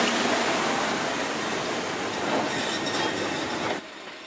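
A restored Sentinel steam railcar runs within station limits at a heritage railway steam gala, its steady rolling rail noise and wheel rumble continuous and fairly close, then cutting off sharply near the end.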